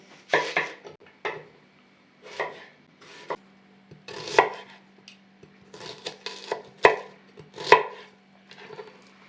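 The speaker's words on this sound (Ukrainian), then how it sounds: "Нарізаємо цибулю півкільцями." Onion is chopped into half rings with a knife on a board, heard as a close series of crisp, irregular cuts and knocks separated by short pauses.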